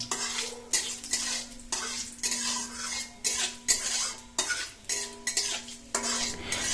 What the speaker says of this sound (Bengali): মা এখানে খুব সুন্দর করে আগে জিরে এবং তেজপাতাগুলো তেলে ভালো করে ভেজে নিচ্ছে